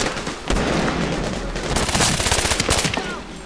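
Rapid automatic gunfire from a weapon in the Medal of Honor Warfighter video game, a loud close burst of sharp repeated shots that swells toward the end, with faint game voices underneath.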